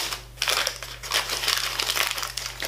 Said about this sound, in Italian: Ve lo scarto? Scartiamolo, va.